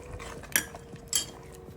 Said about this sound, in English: we stir and you allow to cook for about 4 minutes